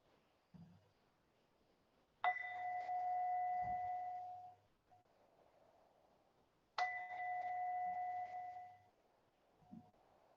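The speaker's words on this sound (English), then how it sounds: "with the sound of the bell, we come to the end of the practice" A mindfulness bell is struck twice, several seconds apart, closing a meditation practice, each ring clear and sustained before slowly fading into quiet.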